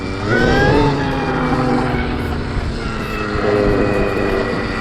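A Stark Varg electric dirt bike set to 15 horsepower whines loudly and steadily while riding, its motor pitch climbing and holding with wind rush close by; no talking.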